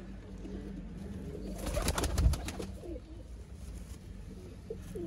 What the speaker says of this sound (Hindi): देखेंगे दोस्तों अच्छी तरीन क्वालिटी के सियालकोटी छत वाले कबूतर